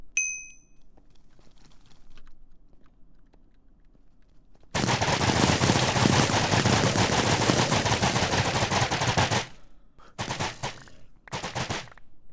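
Minecraft crossbow fired at very high speed: a dense, loud burst of rapid-fire shots runs for about five seconds, followed by two shorter bursts, with a few faint ding-like chimes at the start.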